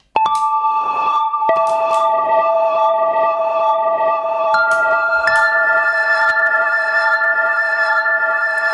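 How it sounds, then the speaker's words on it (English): Sharp plucked notes through a Pladask Stereo Dradd delay pedal smear into layered, ringing echoes that pile up and sustain, forming a dense, looping reverb-like wash of delayed tones. "kind of in looped reverb territory there."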